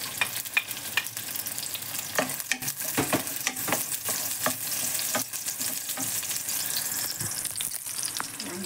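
Garlic frying in a pan, a steady close sizzle with repeated clinks and scrapes of stirring throughout, and no talking.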